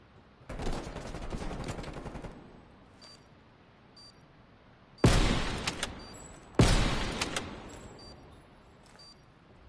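Bursts of automatic gunfire in a first-person shooter match in a competitive esports setting, with a long rattling volley followed by two sharp, loud bursts and faint in-game beeps between them.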